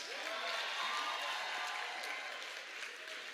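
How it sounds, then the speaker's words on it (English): A conference audience at the opening ceremony of the Afreximbank annual meetings applauds steadily for the actress Viola Davis, a dense, even clapping from a large hall crowd that holds for several seconds. "I want you to give her a round of applause."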